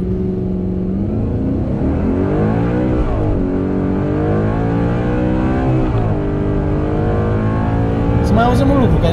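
A powerful Audi R8 4.2 FSI quattro V8 engine accelerates through several rising pitch sweeps, loud and close, with brief drops between gear changes.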